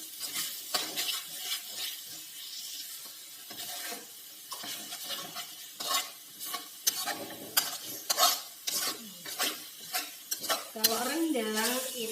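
Rendang spice paste for beef rendang sautés in a pan in a mosque kitchen, with a sizzling hiss under repeated scraping strokes of a spoon against the pan, close up.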